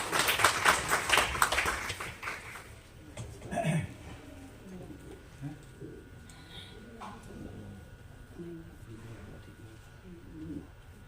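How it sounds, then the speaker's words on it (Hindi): Audience applause at a Hindi poetry gathering in Udaipur, a dense burst of clapping at the start that fades within a few seconds, followed by a quieter room with faint murmurs and scattered sounds. "जोरदार तालियां"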